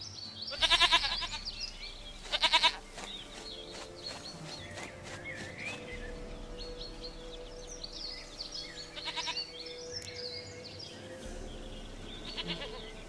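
Goat in the Witcher 3 video game, giving two short bleats near the start and another later, fairly faint against a quiet ambient backdrop with light chirps.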